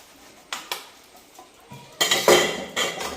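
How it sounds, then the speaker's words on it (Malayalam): Dishes, cups and glasses used for tea clink and clatter while being washed, with sparse knocks at first and then a denser run of close, loud clanks. "ചായ ഒക്കെ കുടിച്ച പാത്രം ഗ്ലാസും എല്ലാം ഉണ്ട്. ഒന്ന് കഴുകി വെക്കട്ടെ."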